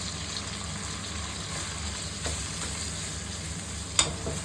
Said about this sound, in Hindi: अब इसमें ये अदरक लहसुन डालता है।